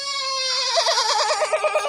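A singing voice in a children's action song imitates a cow mooing with a long, drawn-out tone that breaks into a wavering, pulsing vibrato, loud and close.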